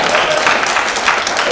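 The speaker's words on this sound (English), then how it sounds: "let's hear some cheering for your team" A seminar audience cheers and claps for their trivia team, a dense, steady roar of crowd noise filling the whole moment without a break.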